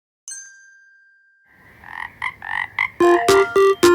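A frog croaks in a children's song, starting with a long tone and then a series of short, loud, rhythmic croaks. Bright chime-like dings are mixed in toward the end.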